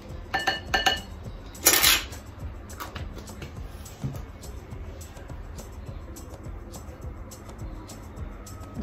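Keto dough ingredients for sugar-free maamoul are stirred in a bowl, with a few bright clinks of a utensil against the bowl at the start, then quieter scraping and mixing.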